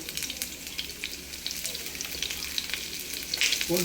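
Garlic and ginger frying in a pan, a loud, close, continuous sizzle with crackling, alone without talk.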